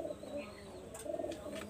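Golden high-flyer pigeons coo softly in short, low, warbling phrases, close by and fairly quiet, with light chirps breaking in near the end.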